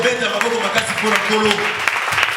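A church congregation claps and cheers to acclaim the Lord, a dense, lively burst of applause mixed with raised voices.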